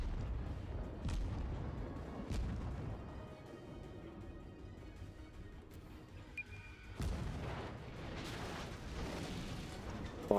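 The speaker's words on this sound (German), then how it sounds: "Ja, ich baller auch nochmal auf." Naval guns fire in the World of Warships game, sharp booming shots at intervals followed by a heavier, rumbling salvo in the second half, over a low background of engine and sea noise.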